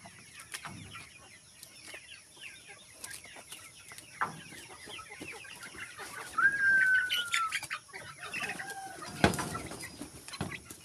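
Heritage chickens and chicks cluck and peep at feeding time on a farm, with soft overlapping calls and chirps at low level, brief louder flurries and scattered scratching sounds.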